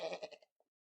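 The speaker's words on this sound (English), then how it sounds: "Is that the goat from Scallops?" One short bleat from a goat, loud and close, wavering over a few pulses before cutting off, followed by a tiny faint trailing sound and then silence.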